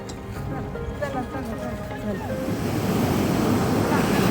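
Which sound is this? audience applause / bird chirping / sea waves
sea waves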